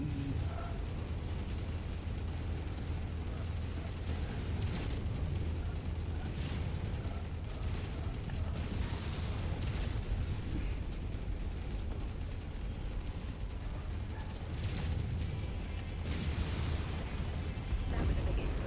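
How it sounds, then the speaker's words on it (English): Rockets explode in a MechWarrior 5 battle, with repeated heavy booms and rumbling blasts rolling over continuous combat noise. "That was a big explosion."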